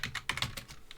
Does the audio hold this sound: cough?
no